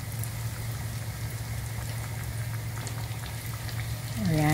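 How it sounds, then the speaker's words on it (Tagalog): Hot oil bubbling and gently sizzling while chicken lollipops fry, a steady close fizz that swells slightly louder at the end, with no voices. "pag kumukulo na siya or may bubbles na doon sa below the chopstick, ibig sabihin okay na siya"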